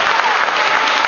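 Dense, steady applause from a large crowd at a GERB political rally fills the hall, loud and continuous throughout.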